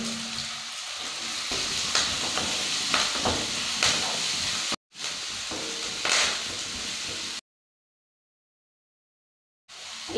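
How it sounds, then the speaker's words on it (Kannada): Onion, garlic and chillies fry in a hot pan with mustard seeds, giving a steady close sizzle with occasional stirring scrapes, broken by short silent gaps. "ಸಾಸಿವೆ ಸುಡಿದಾದ ಮೇಲೆ ನೀರುಳ್ಳಿ ಬೆಳ್ಳುಳ್ಳಿ ಕಾಯಿ ಮೆಣಸನ್ನು ಚಂದ ಫ್ರೈ ಮಾಡಬೇಕು"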